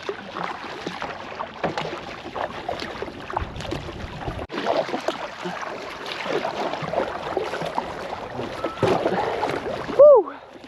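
A kayak paddle dips and splashes rhythmically as the boat moves across the water, with light wind noise on the microphone throughout.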